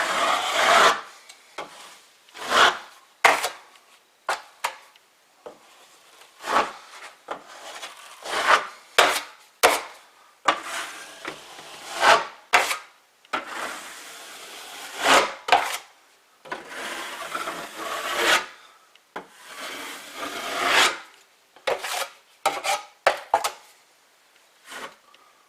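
Drywall joint compound spread with a knife over a large patched hole in a wall: repeated close scraping swipes of varying length, fairly loud and irregular, with no speech.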